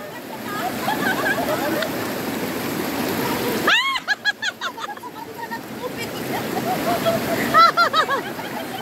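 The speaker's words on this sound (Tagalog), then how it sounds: "Malakas yung agos." A strong river current rushes with a steady broadband roar, while people talk and shout over it nearby.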